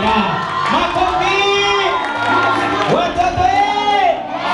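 A crowd of children shouts and cheers at a children's week performance, voices rising in excited whoops and calls across several seconds, close and lively.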